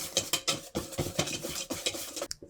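Red pepper powder mixture whisked briskly in a bowl for Korean fried chicken, a rapid run of close, rhythmic scraping strokes against the bowl, with a brief pause near the end.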